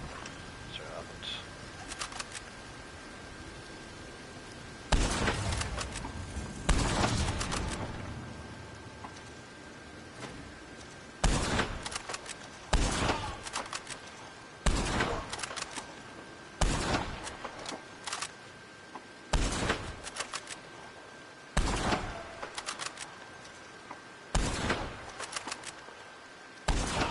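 Gunfire in the video game Red Dead Online rings out as a series of about a dozen loud, sharp shots spaced every second or two, each with a decaying echo, over a quieter outdoor background.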